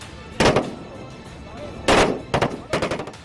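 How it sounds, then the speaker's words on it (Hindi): Machine gun bursts and shell blasts at a military training exercise in Ladakh: two loud heavy volleys followed by a quick run of rapid shots, fairly close and harsh. "गोले बरस रहे हैं, मशीन गनों से दनादन फायरिंग हो रही है"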